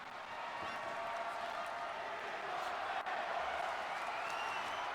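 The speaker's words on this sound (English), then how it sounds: "Crowd asking for tables." Wrestling crowd chanting for tables at ringside, a steady dense roar of voices that holds at an even level throughout, with a brief dip near the middle.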